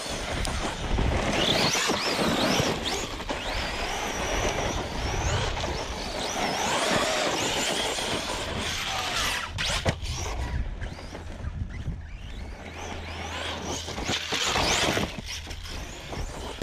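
An ARRMA Kraton 6s EXB RC car with a 2050 kV motor and a smooth, quiet drivetrain runs steadily nearby. It gives a continuous gritty whir and scrape, with a couple of brief dips, and no voices.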